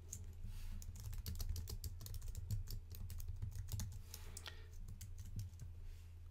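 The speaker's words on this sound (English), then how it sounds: "Now we've typed our comment." Fingers typing on a computer keyboard, a fast irregular run of close, light key clicks that continues for several seconds without talk.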